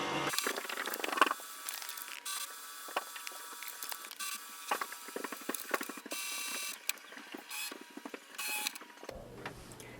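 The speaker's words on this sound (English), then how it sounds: "It will start the scanning process" An HP OfficeJet Pro 8025 inkjet printer's scanning mechanism whirs and clicks steadily while scanning pages, with intermittent mechanical ticks and creaks, fairly quiet and without voices.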